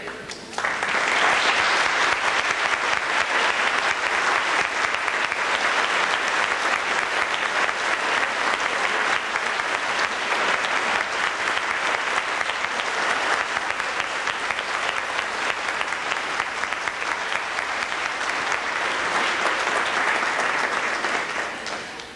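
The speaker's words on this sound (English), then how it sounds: "We'd like to give you applause right away." Sustained, dense applause from a banquet audience at a 65th anniversary dinner dance in Brooklyn, steady and loud for about twenty seconds with crowd noise mixed in, then tapering slightly at the end.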